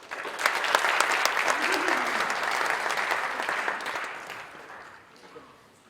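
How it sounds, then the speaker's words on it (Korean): Audience at a church seminar on revival gives sustained applause in thanks to a visiting professor, a dense wash of clapping that holds steady for several seconds before tapering off, with some voices faintly under it. "우리 이풍인 교수님에게 다시 한번 감사의 박수 드리겠습니다."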